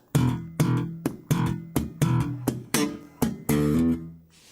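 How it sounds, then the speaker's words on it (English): Bass guitar riff from a song's main verse: a series of sharp muted slaps on dead notes, roughly eight percussive hits in a steady rhythm, ending with a sustained hammered-on note that rings out, played alone, close and clear. "After we've played the last little mute slap, we've got a hammer on."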